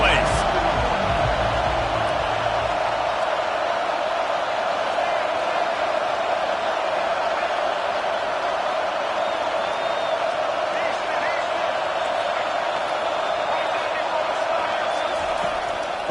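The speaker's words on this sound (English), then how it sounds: "this crowd is tearing the lid off this place" Stadium crowd at a college football game, a steady loud roar of cheering that fills the air throughout while a commentator speaks over it.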